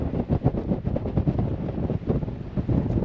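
Strong wind at the Saar loop (Saarschleife) river bend overlook buffets the microphone with a continuous low roar and uneven gusting pulses, with no voices.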